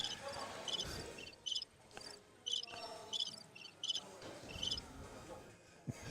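A cricket chirping sound effect played in short, bright bursts of rapid chirps, repeated irregularly and fairly faint over a low background murmur.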